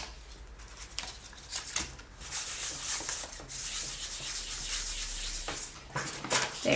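Polymer clay being burnished smooth through a sheet of paper gives a close, continuous rubbing and scraping, swelling and easing in strokes with brief pauses.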